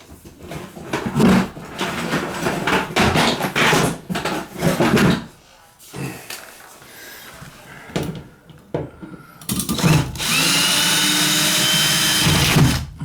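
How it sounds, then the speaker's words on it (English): Power drill backing screws out of a copper fin baseboard heater in a bathroom, sounding as short, loud whirring bursts through the first half, then a longer sustained run near the end, with a brief pause of quieter handling between. "Get a couple of screws loose now."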